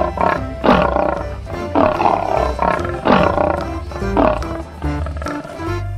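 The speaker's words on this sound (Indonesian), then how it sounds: "Wow, ini harimau" A tiger roars in a series of about five loud, rough bursts, each swelling and fading, close and continuous with no talk.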